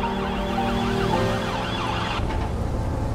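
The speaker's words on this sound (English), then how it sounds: "12 sirens screaming." Wailing emergency sirens sweep up and down over a steady traffic rumble, loud and fairly close, with no voices.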